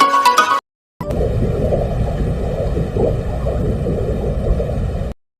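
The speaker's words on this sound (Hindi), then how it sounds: "फैक्ट नंबर 3, शुक्र की आवाज।" Space-mission sonification of the planet Venus: a brief burst of tone, a short gap, then a sustained hissing, gurgling roar like wind or rushing water, steady and fairly loud until it stops suddenly.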